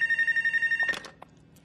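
An electronic telephone ringtone in an animated Littlest Pet Shop episode trills steadily in rapid pulses, then cuts off as a few clattering sounds follow; no one speaks.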